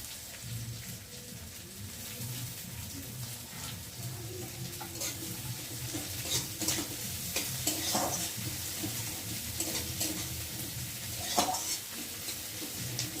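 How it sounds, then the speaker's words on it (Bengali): Steady, close sizzling of garlic and chillies frying in hot oil, with occasional scraping and stirring sounds over the crackle; no voices. "রসুনটা লঙ্কাটা একটু বেশ লাল লাল করে ভাজা হয়ে এসছে"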